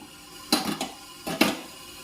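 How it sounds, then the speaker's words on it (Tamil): Two short clattering bursts of metal on metal, an idli plate set down into a steamer pot of boiling water, close and fairly quiet, with silence between. "இட்லி தட்டை வச்சுக்குவோம்."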